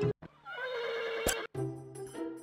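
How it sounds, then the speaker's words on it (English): A horse neighs loudly on the Garfield Kart video game loading screen, a single close whinny that breaks off abruptly, followed by other game sounds. "Why is there a sound of a horse that just gets cut off for no reason?"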